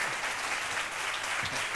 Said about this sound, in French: Applaudissez un peu parce que c'est trop fort